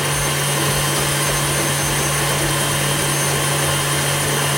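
Electric stand mixer whirring steadily at close range as it beats a small batch of cupcake batter in a bowl, a continuous motor hum with no talk.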